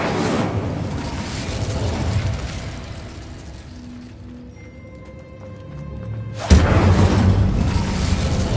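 The Incendio fire spell in Hogwarts Legacy, a magic action game, ends in a sudden loud whooshing burst of flame, preceded by a dense roar that fades into quieter tonal game sounds.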